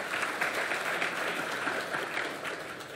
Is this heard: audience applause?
yes